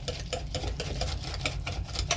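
Oats being whisked into banana oatmeal bread batter make a quick rhythmic clatter, a whisk ticking steadily against the bowl, close and moderately quiet with no voices.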